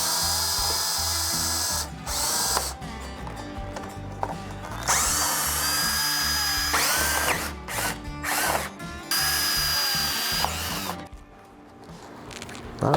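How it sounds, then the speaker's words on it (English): A power drill bores out rivets on a vinyl fence gate, the motor whining in long loud bursts that stop and restart several times, with a brief quieter gap near the end. "Right now, I'm gonna try to drill these rivets out."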